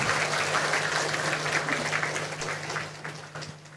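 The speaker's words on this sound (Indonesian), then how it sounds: "tepuk tangan untuk kita semuanya" An audience at a talk on calm, blessed motherhood claps together, dense steady applause from a sizable crowd with a low hum beneath, loud at first and then fading toward the end.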